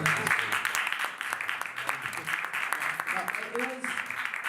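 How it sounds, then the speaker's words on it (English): An audience at a music-industry talk show claps, a brief wash of applause running under steady conversation from the hosts and guest. "Please give a round of applause."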